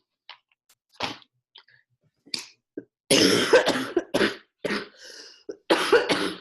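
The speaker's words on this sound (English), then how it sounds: "this cough is out of hand" A series of coughs, a few soft and scattered, then several harsh, loud hacking coughs in quick succession, close up.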